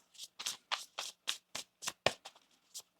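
Tarot cards being shuffled by hand up close, a steady run of about a dozen quick papery riffles and slaps in an even rhythm, with no voices over them.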